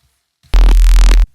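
A single sustained buzzy saw-wave synthesizer tone for bass sound design, bright and harmonically rich, holding steady for under a second before cutting off abruptly.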